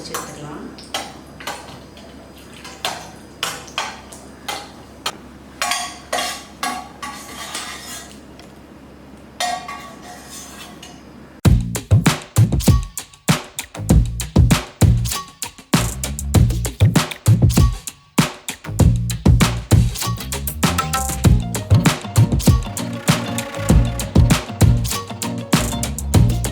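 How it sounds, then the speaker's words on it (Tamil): Cashew nuts frying golden in ghee in a pan for bread halwa, with a steady sizzle broken by frequent clinks and scrapes of a metal spoon against the pan, louder and busier in the second half. "இந்த முந்திரி பருப்பை கோல்டன் கலரில் நல்லா பொரிச்சு எடுத்துக்கலாம்."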